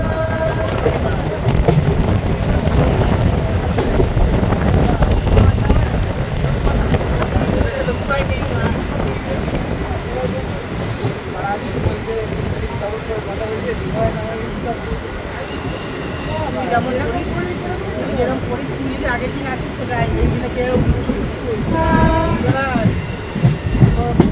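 A Sealdah–Ranaghat local train pulls into Halishahar station, its steady rumble and clattering wheels carrying on loudly throughout, with faint speech mixed into the noise.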